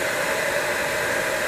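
A hair dryer blows air to dry flesh-tone paint on a miniature, a steady close whooshing hiss that holds constant throughout with no talk.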